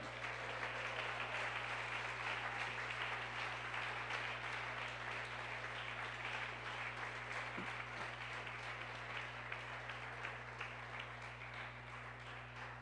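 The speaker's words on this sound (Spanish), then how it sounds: "Aplauso al Señor." A church congregation applauds during a service: dense, sustained clapping from many people that runs steadily for the whole stretch at an even level.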